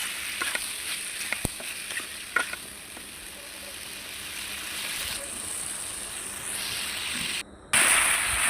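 Taro root (arbi) pieces frying in a pan for a pangas fish curry, a steady close sizzle with a few sharp clinks and scrapes of stirring, briefly cutting out before resuming louder.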